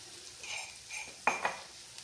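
A spoon stirring a boiled egg fry mixture with onion, garlic masala and coriander in a pan, soft scraping followed by a couple of sharp metallic clinks against the pan, faint and close.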